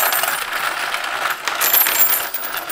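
Homemade Lego coin sorter switched on with a stack of coins, giving a bright continuous clatter and jingle of coins rattling through the machine, loud and close.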